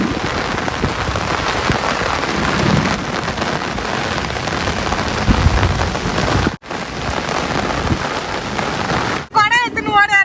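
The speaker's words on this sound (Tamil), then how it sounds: "சரியான மழை பெஞ்சிட்டு இருக்குங்க இடியோட" Heavy rain pouring steadily with a broad, loud wash, low rumbles that fit thunder beneath it, and a brief break near the end where a voice and a tonal chirping sound come through.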